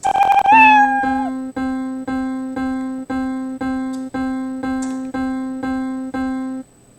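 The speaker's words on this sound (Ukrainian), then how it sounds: "Коли доторкається до жовтого, він грає звук няв." A Scratch program's synthesized cat meow rises at the start, followed by a steady series of about ten identical electronic notes repeating evenly.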